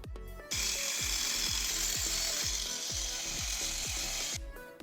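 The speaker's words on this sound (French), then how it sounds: "Tanguy décape la peinture du châssis pour pouvoir souder les tubes dessus." A power tool strips paint from the steel chassis of a homemade mini tank, a loud steady abrasive whine running for about four seconds with a rapid rhythmic mechanical knock beneath it, starting and stopping abruptly.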